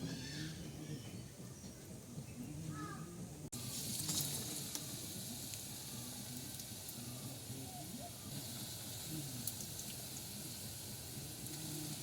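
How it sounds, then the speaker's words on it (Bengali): Palm fruit fritters (taler bara) fry in hot oil in a home kitchen, giving a dense, steady sizzle close by. The sizzle grows louder after a brief bump a few seconds in and carries on for the rest of the clip. "চলে এসেছি রান্নাঘরে বড়া ভাজবো বলে তা দেখো তেল গরম হয়ে গেছে"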